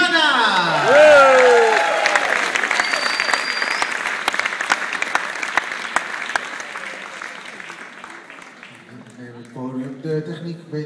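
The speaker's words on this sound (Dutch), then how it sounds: "applaus" A crowd applauds loudly and steadily, fading toward the end as a voice begins speaking.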